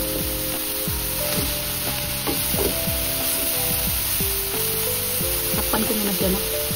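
Vegetables with carrots for lumpia filling fry in a pan with a steady, even sizzle throughout, while a voice talks over the cooking.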